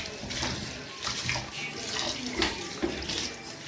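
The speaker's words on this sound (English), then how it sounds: "So I'm gonna show you guys how I wash the rice." Rice is washed in water in a pot, a close, continuous swishing and splashing with running water throughout.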